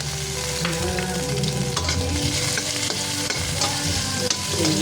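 Tomatoes fry in a pan while being stirred, a steady close sizzle with scraping utensil strokes and clinks on the pan, with no talking.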